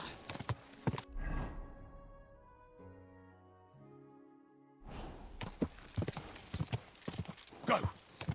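Horse hooves clip-clop in Kingdom Come: Deliverance 2: brisk, close hoofbeats, a pause filled by tonal game music, then renewed hooves with clatter and a brief whinny.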